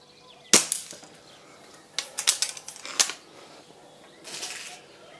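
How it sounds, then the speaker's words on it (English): Weihrauch HW 97 air rifle with a stage 3 tune firing a few shots, each a short sharp crack or thud with mechanical clicks between, close and fairly quiet. "A couple more shots from this angle, so you can see the recoil"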